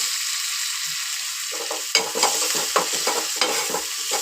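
Onion frying in oil with roasted cumin seeds while being stirred: a steady high hiss of sizzling, with scraping stirs growing busier in the second half, close and alone.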